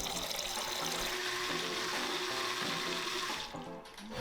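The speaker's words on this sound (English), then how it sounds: "so let's put some water in the bilge and test it out." Water poured into a sailboat's bilge, a steady close rushing splash that runs continuously before tapering off near the end.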